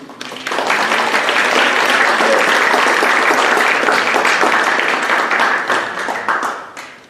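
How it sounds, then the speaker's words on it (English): An audience at a Phi Theta Kappa honor society ceremony at Coastal Bend College bursts into sustained applause, a full, even roar of many hands that holds for several seconds before tapering off near the end. "Round of applause for everybody, please."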